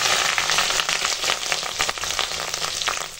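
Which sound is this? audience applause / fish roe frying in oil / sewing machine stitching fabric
fish roe frying in oil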